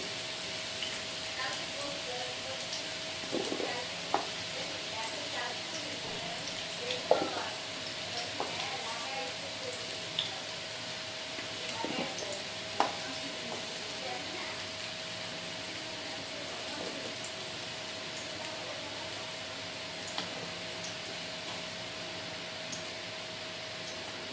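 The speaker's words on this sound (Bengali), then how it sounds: "তো আমাদের আলুগুলো কিন্তু লাল লাল করে ভাজা হয়ে গেছে।" Potatoes frying in oil in a pan until reddish-brown and being stirred, a steady hissing sizzle with scattered sharp clicks and scrapes from the spoon at irregular intervals.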